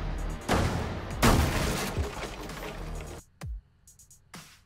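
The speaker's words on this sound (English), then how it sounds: "here's a good example of how the barricades can be shot through, and you can even get kills through them" Gunfire in the Rainbow Six Siege video game rips through wooden barricades in loud, dense bursts, with a short gap of quiet between single sharp shots near the end.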